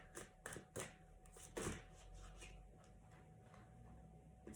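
Tarot cards are shuffled by hand at close range, making a few quick soft riffling bursts and taps early on before fading to quieter handling against a faint background hum.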